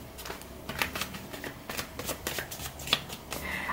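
Tarot cards being shuffled by hand during a reading, a steady series of papery flicks and riffles with sharper snaps now and then, close and fairly quiet, with no talking.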